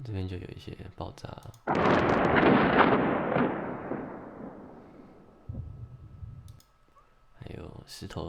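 A deep, sustained explosive rumble from an erupting volcano in the video game Carto bursts in loudly after some clicks, then decays slowly over several seconds, with a lower secondary rumble near the end.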